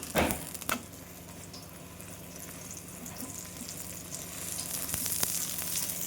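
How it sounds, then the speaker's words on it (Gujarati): Aloo paratha shallow frying in oil on a pan gives a steady, close sizzle that holds for the whole stretch, with a brief louder crackle at the start and no talking. "તેને આપણે તેલ નાખીને શેલો ફ્રાય કરી લેશું. મસ્ત તેલમાં એને શેકી લેશું."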